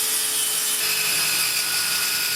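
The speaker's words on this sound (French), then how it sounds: "présentation de la nouvelle version de la scie circulaire de table de Parkside, la PTKS 2000 G5" A Parkside PKTS 2000 G5 254 mm table saw with two speeds cutting wood, a loud continuous bright whirring rasp of the blade held steady and close, with no voices.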